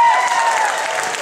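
An audience at a dance studio opening act claps in a dense, steady burst of applause, fairly loud and close, with no pauses.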